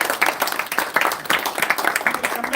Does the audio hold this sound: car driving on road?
no